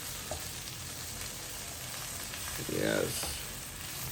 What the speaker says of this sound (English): Mix it gently so we don't want to tear up the leaves because it's already chopped.